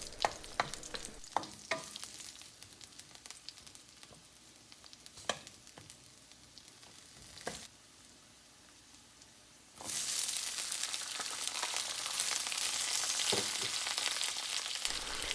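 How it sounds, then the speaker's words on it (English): Garlic and dried red chilies stir-fried in about a teaspoon of oil, with steady sizzling and intermittent scraping stirs, the frying growing louder and denser in the second half; no talking. "And then stir fry until you begin to smell the fragrance."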